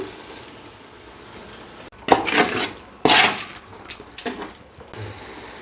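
Yogurt and lemon juice being stirred into biryani in a pot, a few scraping, clattering bursts of spoon against metal separated by short quiet gaps, close and moderately loud with no talking.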